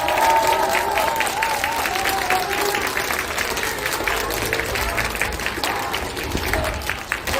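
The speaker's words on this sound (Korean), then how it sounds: "박수 한번 쳐주세요." A crowd at an outdoor political rally in a Busan market breaks into sustained applause and clapping, loud and continuous throughout, with a voice over a loudspeaker faintly underneath.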